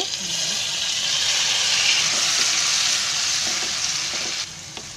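Tomato and coconut gravy poured into hot oil tempering for tuna fish biryani, giving a loud, steady broadband sizzle that runs the whole time with a few faint stirring clinks beneath it.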